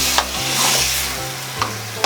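Marinated chicken is stirred into fried onions in a hot pan, sizzling steadily while a spoon scrapes and knocks against the metal a few times, close and clear with no talking.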